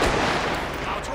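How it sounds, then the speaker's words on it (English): Dense, continuous gunfire from a video game match, loud and close, with rapid overlapping shots and no clear gaps across the short burst. "Shots fired."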